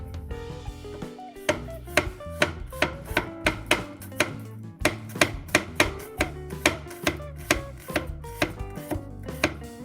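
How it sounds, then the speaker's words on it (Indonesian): A knife cuts onions on a board, giving crisp, close, repeated chopping strikes at an uneven but steady pace with nothing else heard. "Hati-hati kalau nggak biasa potong bawang ya, nanti tangannya bisa terluka kena pisau."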